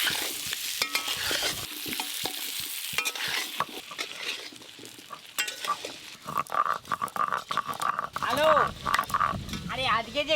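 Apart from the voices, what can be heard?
potatoes frying lightly in hot oil for khichuri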